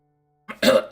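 A single short, harsh cough bursts out after a moment of silence, close and fairly loud.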